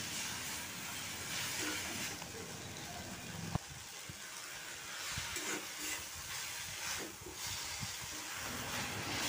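Water spinach fries with onion and garlic in a pan, giving a steady, close hiss and sizzle that stays loud throughout, with a few soft clinks.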